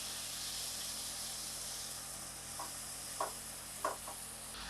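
Onion and tomato sauté in a pan for Indian-style macaroni pasta, a steady soft sizzle with a few sharp spatula taps near the end.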